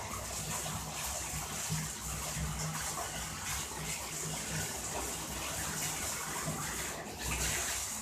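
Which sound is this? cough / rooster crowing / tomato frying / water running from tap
water running from tap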